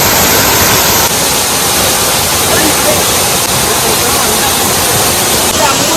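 Waterfall at Anayadikuthu in Kerala, a steady, loud broadband roar of falling water that holds constant throughout with no pauses.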